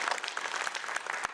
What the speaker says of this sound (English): If we can get a round of applause for John as well.